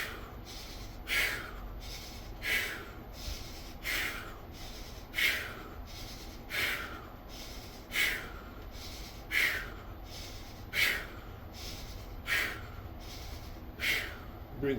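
Heavy rhythmic breathing during a bodyweight workout on a vibration plate, with sharp sniffing exhales repeating about every 1.4 seconds over a low steady hum from nearby equipment.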